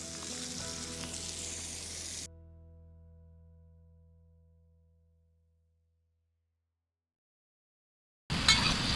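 Wild mushrooms sizzling and frying in a hot pan, a steady close crackle that cuts off suddenly, leaving low hum tones that fade into silence before the sizzle bursts back in at the end.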